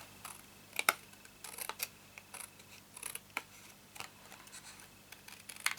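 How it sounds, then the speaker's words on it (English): Cardstock being trimmed for a handmade card, with short crisp snips and clicks scattered irregularly over several seconds, close and fairly quiet, with no voice. "So I'm just going to cut in about 1/8 of an inch."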